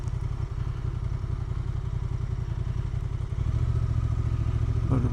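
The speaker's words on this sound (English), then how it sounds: "A lot of bikes." A group of adventure motorcycles on a gravel road rumble together, several engines blending into a steady, throbbing drone at moderate distance, with a second engine note joining louder toward the end; no talk.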